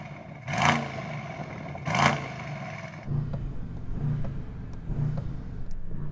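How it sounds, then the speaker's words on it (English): Cars pass close by on a road during a supercar test drive outdoors, with two sharp whooshing pass-bys followed by rumbling engine noise and lighter rhythmic clatter, fairly near and moderately loud. "Cars are getting closer to me though."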